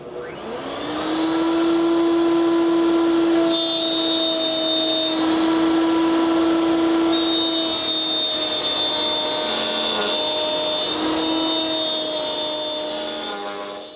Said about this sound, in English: let's move over to the router table